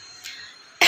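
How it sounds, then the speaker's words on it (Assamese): A single person coughs once, a short loud burst near the end after a quiet stretch of room tone. "মোৰ নিজৰে কাহ হৈ গৈছে"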